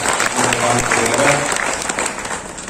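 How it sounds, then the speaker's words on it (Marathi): Loud, dense clapping from a crowd at a political rally for the 2024 Lok Sabha election in Latur, a sustained burst of applause lasting a few seconds. "त्यांच्यासाठीही जोरदार टाळ्या"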